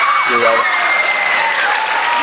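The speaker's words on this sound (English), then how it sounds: "We would need to give them the round of applause, right?" Dense, steady applause from a crowd, loud and continuous, with a brief voice at the start.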